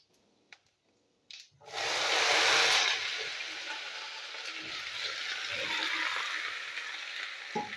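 Okra (lady's finger) added to hot oil with five-spice seeds: a few small clicks, then a sudden loud burst of sizzling that settles into a steady, slightly quieter fry with occasional taps.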